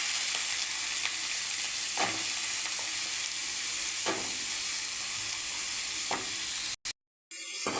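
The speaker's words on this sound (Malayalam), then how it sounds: "കപ്പയ്ക്ക ഒന്ന് വഴറ്റിയെടുക്കാം." Chopped raw papaya sautés in a pan, giving a loud, continuous sizzle and hiss with a few distinct spatula scrapes at even intervals. The sound cuts out abruptly near the end.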